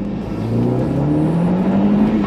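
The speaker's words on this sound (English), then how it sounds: "The only issue is that there was a lot more wheel spin" A 380 bhp SEAT Leon Cupra track car launches hard with wheel spin, its engine note rising in a loud, steady climb as the revs build over a couple of seconds.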